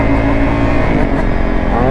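A Honda CR 125 two-stroke dirt bike engine revving loud and close, a continuous raspy drone that barely wavers for the whole two seconds.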